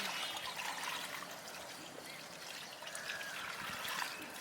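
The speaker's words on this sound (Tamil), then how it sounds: "ஏன் தண்ணியெலாம் கீழே ஊற்றனா" Water trickles and pours out while anchovies are cleaned with salt, a faint, continuous splashing dribble close by with no talk.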